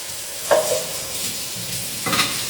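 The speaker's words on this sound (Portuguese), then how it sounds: "Nossa cebola tá fritando" Steady sizzling of onion frying in a pan, with a couple of brief stirring scrapes rising above the continuous crackle.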